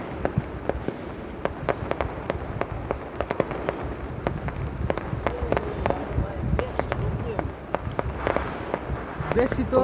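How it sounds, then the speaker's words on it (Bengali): Fireworks going off in a rapid, irregular barrage of sharp cracks and pops over a steady rumble, near to mid-distance, with faint crowd voices underneath. "অল্প অল্প করে দেখা যাচ্ছে তাদের আতশবাজি কীভাবে ফুটানো হইতেছে।"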